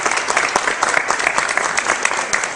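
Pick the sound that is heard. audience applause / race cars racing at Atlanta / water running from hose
audience applause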